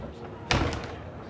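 A train compartment door in the video game The Lion's Song slams shut with a single sharp thud, standing alone over a low background hum.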